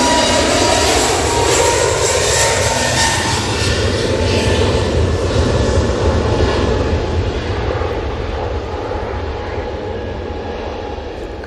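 A Corendon airliner arriving at Manchester Airport, its jet engines a loud, continuous roar with a sweeping pitch that slowly fades as the aircraft passes.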